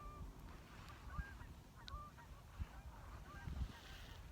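Birds call outdoors, including goose-like honks, with scattered chirps over a soft steady background. The calls are moderately distant and some are close together.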